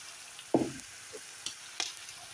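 Ground pork with cubed potatoes and carrots stirred in a frying pan, a quiet background sizzle broken by a few short scraping strokes of a spatula, one stronger scrape early on, no talk.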